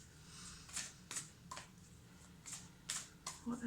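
Cards are shuffled in short, crisp riffling bursts separated by pauses, soft and close, with faint low murmuring underneath.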